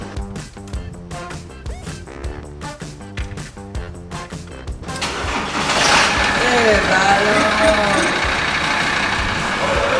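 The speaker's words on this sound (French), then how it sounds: "Instant de vérité, Nicolas va essayer d'allumer la voiture." An old car engine being started on a van trip, first a repeated cranking rhythm, then catching into a steady, loud running roar; people talk over it.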